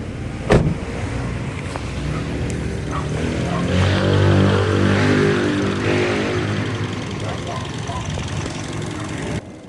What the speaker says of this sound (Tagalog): Bali 30 minutes nang naka-start itong makina niya